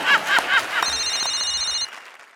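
A telephone rings on a comedy stage show set, giving a steady electronic trill of about one second after a burst of laughter and chatter, then falling silent.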